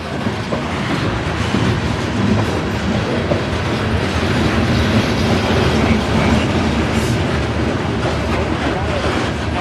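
A long, loud freight train, apparently carrying frac sand, rumbles steadily past nearby in northwestern Indiana, wheels clattering over the rails without a break.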